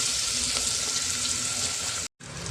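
Onion frying in a pan for mutton curry makes a loud, steady close sizzle with hiss throughout, briefly cutting out near the end before resuming.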